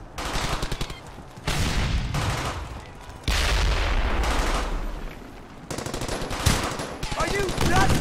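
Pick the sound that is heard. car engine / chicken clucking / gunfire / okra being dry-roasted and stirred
gunfire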